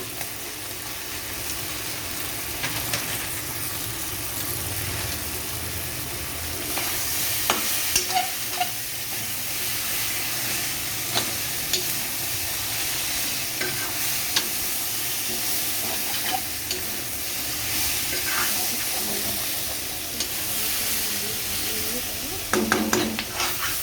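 Spices and red chilli powder are stirred in a frying pan for a Bengali fish-head muri ghonto, giving a continuous hissing sizzle with occasional scrapes and taps of a spoon against the pan, close and steady with no speech.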